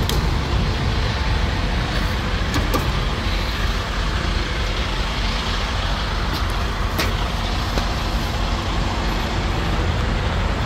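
Hotshot pickup truck on airbag suspension hauling three cars down the road, a steady loud rumble of engine and road noise with occasional faint rattles and clicks from the rig.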